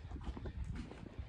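A registered quarter horse's hooves clip-clop in an irregular walking rhythm, faint and fairly close, with no talk over them.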